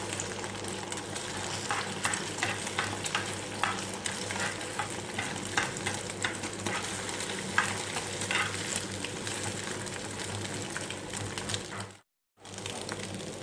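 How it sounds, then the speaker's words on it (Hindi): Eggs fry in a pan with a steady, close crackling sizzle interrupted by light clinks and scraping, running continuously until a brief silence near the end, after which the sizzle resumes. "देख सकते हैं आप कि हमारे अंडे अच्छी तरीके से फ्राई हो चुके हैं।"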